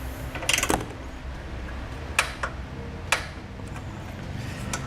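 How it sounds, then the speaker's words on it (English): Torque wrench clicking as it torques down a bolt on a 2018 Ford Focus base plate install, a few sharp separate clicks over a low steady background. "we should have just enough room to get our torque wrench in there and torque that bolt down."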